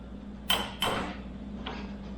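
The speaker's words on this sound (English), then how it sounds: "So I gotta take these original" Sharp metallic clicks ring out as a tool works loose the original motorcycle bolts: two close, crisp snaps followed by a fainter third, over low steady background hum with no talk.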